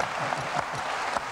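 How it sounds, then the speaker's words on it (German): Studio audience applause on a German television show, steady broadband clapping filling the short moment with no voices over it. "Ja, das ist doch ein Applaus wert."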